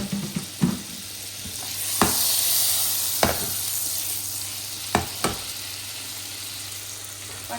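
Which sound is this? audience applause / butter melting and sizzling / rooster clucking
butter melting and sizzling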